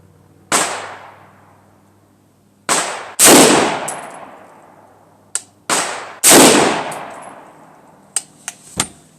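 Rifle shots from an AR-15 chambered in .223 or 300 Blackout, fired with handloads using small rifle magnum primers while zeroing: seven or eight sharp, loud cracks in uneven clusters, each trailing off in a brief echoing decay, with no talk.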